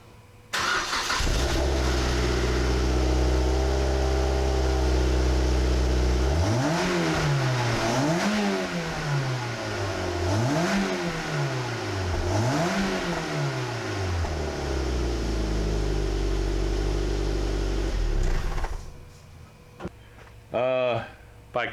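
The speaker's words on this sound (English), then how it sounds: "I am impressed with the OBX exhaust for the NC" A 2007 Mazda Miata NC with an OBX axle-back exhaust idles, then revs four times in rising and falling swells, loud and close, before settling and cutting off.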